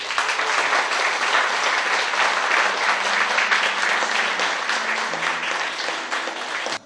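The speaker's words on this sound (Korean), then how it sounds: "4년 동안 고생해주신 우리 이강호 작가께 큰 박수." Audience at a book concert in Gyeongnam applauds the author of a biography of Roh Hoe-chan, a dense, steady wash of clapping that stays loud for several seconds before cutting off abruptly.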